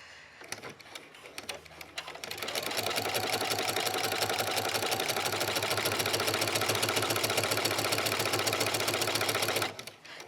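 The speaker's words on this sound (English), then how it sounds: "using the walking foot on the sewing machine, it really helps everything go smoothly" Sewing machine with a walking foot top stitching a dog leash and cage pad, a couple of slow starts, then a fast, even mechanical chatter running loud and close before stopping abruptly.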